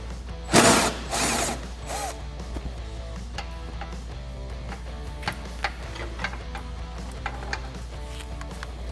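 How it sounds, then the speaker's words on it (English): A 13 mm socket on a ratchet works a bolt free from a bracket on a Jeep Wrangler JL, with a couple of louder bursts at the start followed by quiet, scattered ticking and clicking. "I have a 13 mil socket that I'm going to use to get this bolt out"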